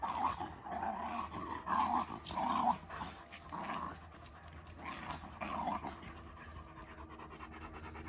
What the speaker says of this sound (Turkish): Havlıyor köpek.